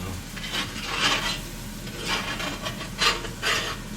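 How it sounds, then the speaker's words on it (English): A utensil stirring and scraping Cajun pork jambalaya off the bottom of a pot: soft repeated rasping strokes with a faint sizzle underneath, fairly quiet and close, with no talk. "Sort of get it scraped up off the bottom a little bit."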